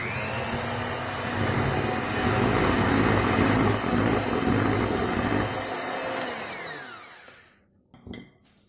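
Electric mixer beating cream cheese with icing sugar in a bowl, a steady loud whirring drone for several seconds that winds down and stops, followed by a couple of brief knocks.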